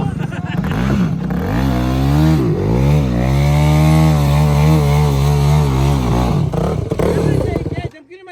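A motorbike engine revs hard for a jump, its loud, close snarl climbing and holding in pitch for several seconds before cutting off abruptly at the end.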